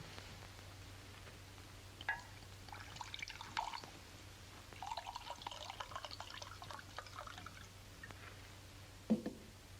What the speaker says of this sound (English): I don't think you're pouring these drinks big enough